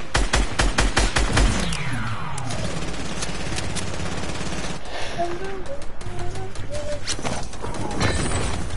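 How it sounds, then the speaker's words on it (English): Rapid bursts of video game gunfire crack close and loud at the start, then sparser individual shots and scattered game effects follow over a lingering background hum. "I was shooting at this guy so many times"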